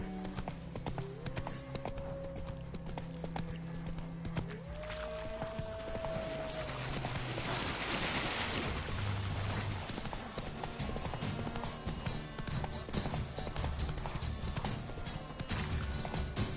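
Roach, the horse in The Witcher 3, gallops with a steady rhythmic clip-clop of hooves over a low musical backdrop, with a short whinny partway through.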